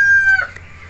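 A Gaok rooster gives a brief crow, a single high drawn-out note that trails off quickly into quiet background.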